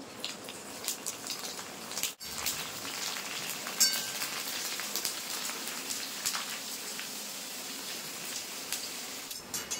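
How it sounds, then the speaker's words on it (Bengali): Fuchka puris deep frying in hot oil give a steady, dense crackling sizzle that runs the whole time like rain on a surface, with a few louder pops and one brief dip. "একইভাবে কিন্তু বাকি ফুচকাগুলো আমি ভেজে নেব"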